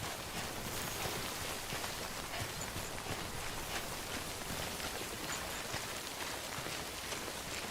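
Timefall rain in Death Stranding, a steady, even hiss of rainfall filling the whole stretch at moderate loudness, with no talk over it.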